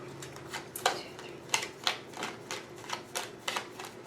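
Tarot cards are shuffled up close in quick, uneven bursts of crisp riffling and snapping, alone with no talking.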